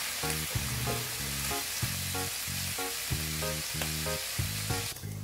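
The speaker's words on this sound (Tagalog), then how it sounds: "just cook the ham until it's golden brown and crispy" Ham crisping in a hot pan with a loud, continuous sizzle and crackle, a few small pops scattered through, no voices.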